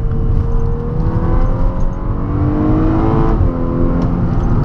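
A Volkswagen Golf 6 R with 270 hp pulls hard under full throttle, its engine a loud, sustained drone that rises steadily in pitch as the car gathers speed, heard from inside the cabin with no talk.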